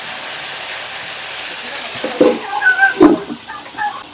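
Potatoes fry in a pan with a steady, soft sizzle throughout, joined near the end by a few brief clinks and scraping stirs.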